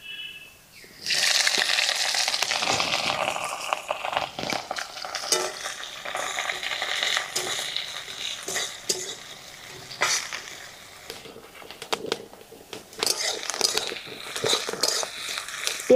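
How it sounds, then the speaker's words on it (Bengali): Chopped onion and green chili fry in hot oil in a pan for a masoor dal, with dry red chilies, garam masala and whole cumin; a steady close sizzle runs throughout, broken by scraping and clinking of a spatula against the pan. "পেঁয়াজ আর কাঁচা লঙ্কা ভালো করে ভাজা করে নেব।"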